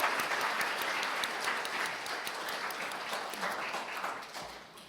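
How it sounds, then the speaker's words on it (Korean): A ceremony audience at the 2023 Daesan Rural Award applauds a prize winner, sustaining a loud, continuous wash of clapping that eases slightly toward the end. "여러분 더욱더 큰 박수로 응원과 응원을 보내주십시오."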